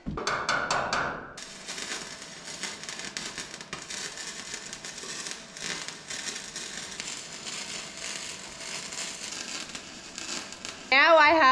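A hammer knocking a large container home frame into place: a quick run of several sharp, close blows, then scraping and shuffling handling noise, ending in a loud clatter.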